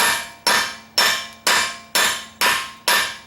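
Seven evenly spaced metallic taps of a brass hammer on a socket fitted over a locking wheel nut, each a sharp ringing strike about half a second apart, close and clear.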